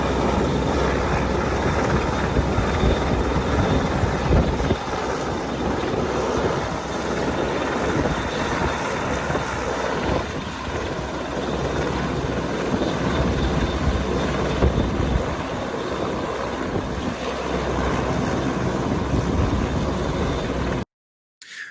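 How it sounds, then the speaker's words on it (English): A helicopter hovers during a medical evacuation from the NCL Aqua cruise ship at sea, a loud, continuous rotor and engine roar that holds steady for about twenty seconds before cutting off. "NCL AQUA has had its first medical evacuation by helicopter 4 days into its service."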